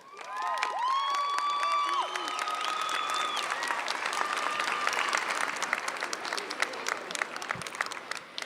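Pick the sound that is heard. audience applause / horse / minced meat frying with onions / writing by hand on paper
audience applause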